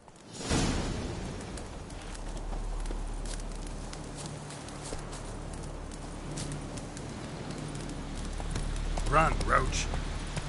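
Hoofbeats of the horse Roach in The Witcher 3 video game, a steady clip-clop of hooves on the ground running throughout at moderate distance, mixed with game ambience and a brief voice near the end.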